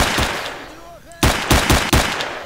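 In S.T.A.L.K.E.R.: Shadow of Chernobyl, a few loud gunshots ring out, then after a quieter gap a rhythmic burst of five or six heavy shots fires in quick succession, close and punchy.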